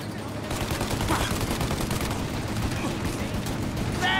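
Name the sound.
machine gun fire in a video game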